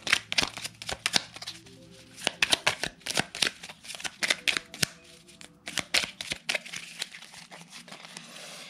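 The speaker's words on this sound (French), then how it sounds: "Je vais maintenant vous sortir une carte avec donc l'oracle de la" Oracle cards are shuffled and drawn close up, giving a run of soft riffling flutters and papery slaps in quick irregular bursts, with a little quiet speech underneath.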